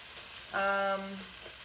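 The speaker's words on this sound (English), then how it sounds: "The vegetables are doing really well. I hope you can hear them cooking." Vegetables, onions among them, cook in a hot pan for a brunch vegetable hash, giving a faint, steady sizzle with a brief tonal sound rising over it midway.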